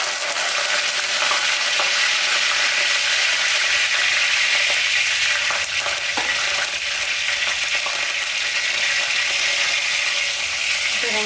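Curry leaves dropped into hot oil with fennel seeds for a Chettinad mushroom masala, giving a steady loud sizzle and crackle that runs without a break, close up.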